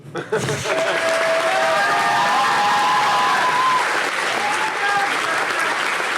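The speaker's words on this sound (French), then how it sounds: "un tonnerre d'applaudissements pour Sébastien" A crowd at a French film project pitch gives a loud, sustained round of applause for the director, dense clapping that starts abruptly and holds steady at full strength throughout.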